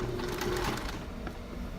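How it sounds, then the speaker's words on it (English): A sewing machine stitches steadily across the edges of an oven cloth made from fabric and a dishcloth, running as a continuous close mechanical whir with a fast needle rhythm throughout. "we're just going to sew all the way across at the edges"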